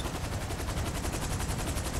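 Fireworks going off in the video game GTA V, a quiet rapid string of crackling pops repeating at an even pace, heard alone without talk.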